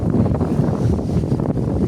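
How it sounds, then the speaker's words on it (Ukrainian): Strong wind blows across an open planting field, buffeting the microphone with a steady low rumble and gusty fluctuations, with no voices. "Вітер такий дуренесенький дує"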